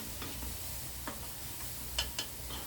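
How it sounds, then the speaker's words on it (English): Onions cook in a pot for venison stew, giving a quiet, steady sizzle with a few faint spoon ticks and taps scattered across it. "I've got my onions in here."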